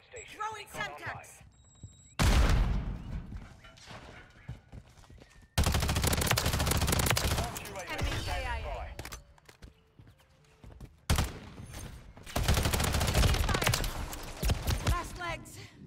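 BAL-27 rifle fire in Call of Duty MW3, loud bursts of rapid automatic shots in several long volleys separated by short quiet gaps, close and dominant, with game effects between bursts.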